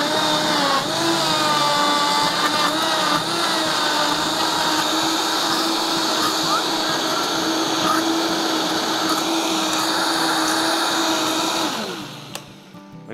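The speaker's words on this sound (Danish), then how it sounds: "Og så kører vi lige en tur med blenderen her, så skulle vi gerne få en super flot og smuk grøn smoothie." A Vitamix blender runs steadily at high speed, blending a green smoothie of broccoli and rice milk, with a loud, continuous whirring roar that stops abruptly near the end.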